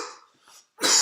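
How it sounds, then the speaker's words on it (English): One light, dry cough after smoking cannabis, a short burst, a brief pause, then a second rougher burst of breath, close and alone. "I love these little light coughs."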